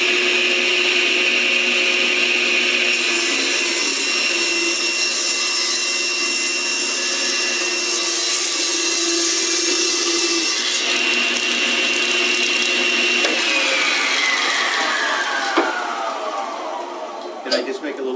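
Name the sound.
saw cutting a piece of wood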